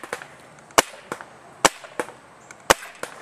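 Several sharp shots from an Invert Mini paintball marker fired through a chronograph on a hot day during an efficiency test, irregularly spaced pops of varying loudness, close and without talk.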